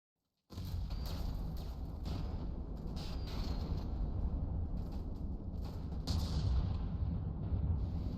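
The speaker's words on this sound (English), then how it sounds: "I don't know why all these simple guns suddenly decided to shoot" Simple guns on a vessel in the naval game From the Depths fire continuously, a dense rumbling barrage of booms and blasts that grows heavier near the end, with no voices.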